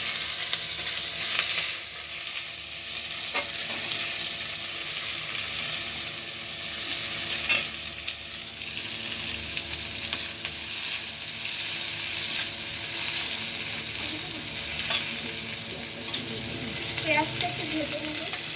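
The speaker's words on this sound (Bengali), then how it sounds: "এবার তেলে পেঁয়াজ কুচি দেব।" Chopped onions fry in hot oil for an egg curry, giving a steady, close sizzle that runs the whole time, with occasional stirring clicks and scrapes.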